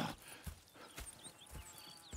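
Horses in the Red Dead Redemption 2 video game clop along with steady hoof beats about twice a second, with faint whinny-like tones and no talking over them.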